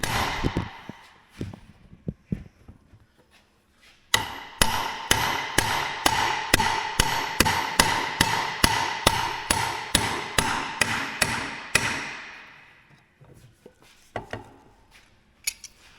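A few scattered taps, then a fast, even run of sharp metallic hammer blows on a metal socket ringing out nearby, stopping abruptly before a few final isolated knocks.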